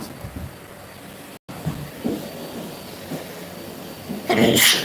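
Someone sneezes in a home during a live stream: a short, loud, breathy hiss bursts out near the end, after a stretch of soft background noise with a brief dropout.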